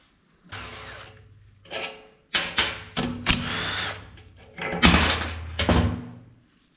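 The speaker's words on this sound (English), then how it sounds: "I can now undo these cap bolts, these 4 cap bolts, take the caps off" Cap bolts on a Chevy Nova rear axle being undone with a power tool, several short whirring bursts in a row, each rising and stopping abruptly with brief gaps between, close and fairly loud, no talk.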